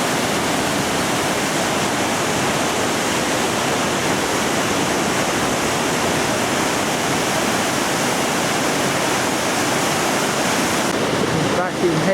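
Water rushes loudly and continuously over a River Thames weir near Henley, a dense, even roar heard close by with no break.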